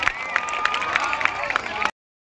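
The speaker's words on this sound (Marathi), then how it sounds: "जोरात टाळ्या वाजवायच्या सर असे उभे राहा प्लीज" An audience applauds at a unity run prize ceremony, with steady, scattered clapping from a crowd that sounds moderately distant before stopping abruptly.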